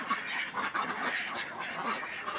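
Khaki Campbell ducks on a duck farm quack steadily as a dense, overlapping flock, a close and continuous chorus with no talk.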